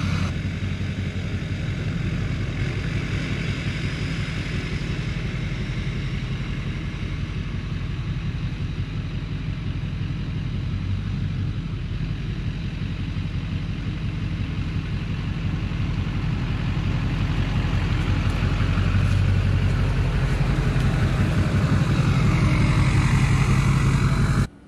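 A Duramax diesel pickup truck engine drones steadily and close up while driving, a low continuous rumble that builds slightly louder toward the end before cutting off.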